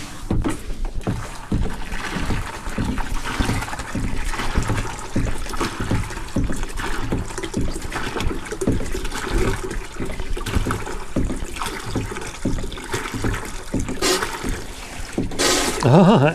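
Water sloshes and trickles steadily through a boat's bilge as a bucket pump works, with water seeping in through a hole in the side; rhythmic splashing and gurgling run throughout, close and fairly loud, with voices heard intermittently.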